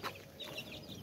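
A hen and her chicks cluck softly in short, repeated bursts while pecking at grain, with a few higher chick peeps mixed in, close and fairly quiet.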